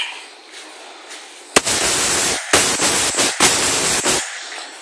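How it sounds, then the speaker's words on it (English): Paintball gun firing in 3-round burst mode, giving loud, sharp pops in quick clusters over about three seconds, close by with no talk. "Now it's on 3-round burst."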